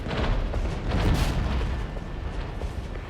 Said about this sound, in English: Nice artillery bombardment on the warehouses